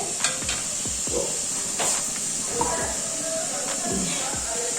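Milk coming to a boil in a pot for making pitha, with a steady bubbling hiss and occasional soft ladle clicks against the pot, close and fairly quiet.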